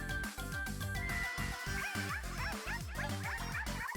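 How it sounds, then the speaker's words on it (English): Playful yipping, bark-like calls ride through the outro of a Splatoon 3 Splatfest song, woven into a steady, pulsing beat with chirpy rising sweeps. The rhythmic music stays loud throughout. "Why does one of them sound like a barking dog in like their outro part of the song?"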